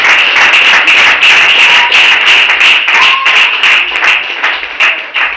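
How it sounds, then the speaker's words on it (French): A church congregation claps loudly and rhythmically in praise of Jesus, dense close-up handclaps continuing steadily with no speech over them. "Les acclamations pour Jésus."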